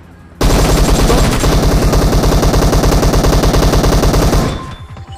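Sustained automatic AKM fire in PUBG Mobile on the Erangel map, a loud, dense rapid burst of rounds running about four seconds before cutting off abruptly, with no voices over it.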